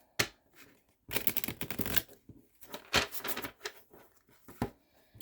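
A fairly new tarot deck shuffled by hand, giving bursts of crisp riffling and flicking card sounds with short pauses in between, close and clear.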